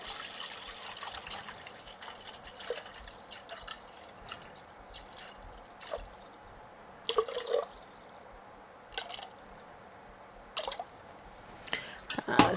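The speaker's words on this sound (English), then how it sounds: "So I'm going to do my 700 grams of water." Water for a bread dough mix, 700 grams in all, being poured and measured, heard as faint drips and small trickling splashes scattered irregularly over a quiet background.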